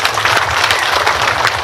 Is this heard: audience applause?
yes